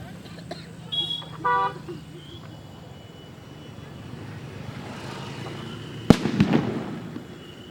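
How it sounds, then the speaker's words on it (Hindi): Firecrackers and bombs are set off on darkened city streets during a blackout mock drill, with a sharp close bang followed by crackling bursts, amid distant horns and traffic noise. "आपको आवाज़ सुनाई दे रही होगी, तो वहाँ से आप देखिए यहाँ पर बम फोड़े जा रहे हैं,"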